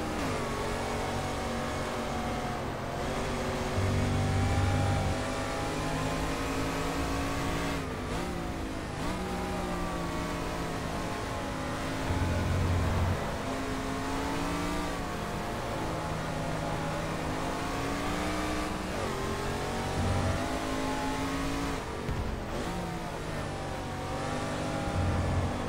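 A De Tomaso Pantera race car engine roars in the GT Legends racing game at Spa-Francorchamps, droning continuously as it revs up and down through gear changes over a long stretch.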